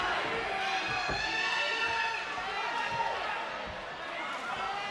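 Crowd noise at a live MMA event during the Dan Hill versus David Martinez bout, a steady roar of cheering and shouting that holds throughout, with voices and scattered thumps mixed in.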